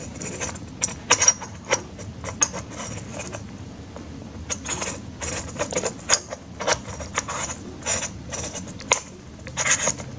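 Threaded camera-adapter parts for a telescope, including a T-ring adapter, being screwed together by hand, giving a steady run of small dry clicks and ratcheting ticks close up over a low background hum.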